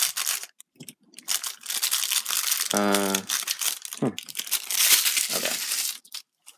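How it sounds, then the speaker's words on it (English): A tissue paper bag crinkles and rustles in bursts while Power Rangers Lightning Collection figures are unboxed up close, with a few brief, soft knocks, and a person speaks briefly. "I don't mind the tissue paper bags,"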